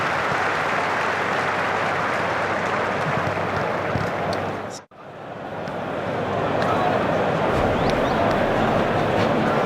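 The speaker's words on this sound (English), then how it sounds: "Crowd loving it on the edge of their seats." A large crowd at a Sydney Ashes Test cricket match applauds and cheers steadily, a dense roar that dips briefly midway before swelling again.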